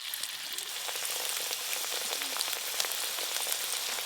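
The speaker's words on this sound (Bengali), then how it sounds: "প্রথমে পোস্তুর বড়াগুলো ভাজবো" Poppy seed fritters frying in hot mustard oil give off a steady, dense sizzle with crackling pops throughout, close and continuous with no voices.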